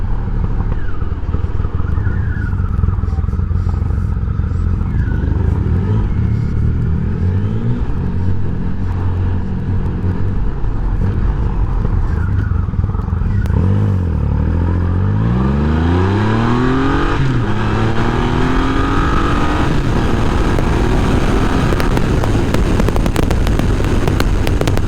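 A Triumph Rocket motorcycle rides along with a loud, steady engine roar, rising and falling through several revs and gear changes as it accelerates, heard up close with strong wind noise and no talking.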